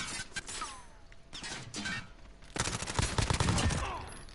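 Gunfire in a Modern Warfare search and destroy match crackles in bursts, sporadic shots early, then a heavy, sustained volley swelling loud toward the end amid game noise.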